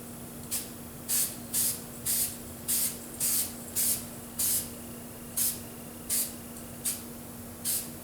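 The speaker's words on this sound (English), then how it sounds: "I'm going to put some more guide coat on it" Short bursts of guide coat sprayed from an aerosol onto a Ford Flex bumper cover repair, about a dozen separate hissing puffs at an uneven rhythm over a faint steady hum.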